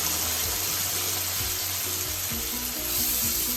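Steady, dense sizzling of spices frying in hot oil, close and continuous, with a low hum and occasional stirring scrapes underneath.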